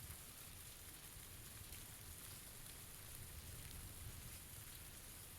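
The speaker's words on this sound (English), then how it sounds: "Rain, like, muffles footsteps, too" Steady rain in PUBG, a dense, even hiss of falling drops spread evenly throughout, constant and fairly soft with no voices or other sounds breaking through.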